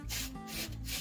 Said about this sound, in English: a synthetic wool for sanding